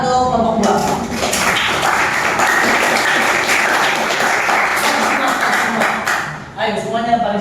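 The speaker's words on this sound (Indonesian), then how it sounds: "Tepuk tangan untuk kelompok 2." A junior high school history class applauds a student group, dense continuous clapping from many hands filling the room for several seconds before tapering off, with a voice or two near the end.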